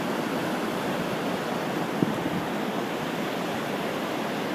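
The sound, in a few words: big ocean waves breaking at Hanalei Cove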